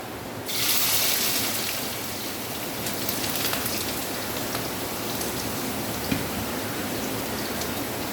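Chopped ginger hits a hot pan for a Kerala-style ginger curry with mustard seeds, setting off a loud, steady hissing sizzle that starts abruptly and continues without letting up.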